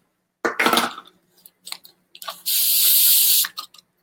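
Liquid poured back into a container after measuring sugar in a Rockstar energy drink: a steady one-second splashing pour, preceded by clinks and handling noises.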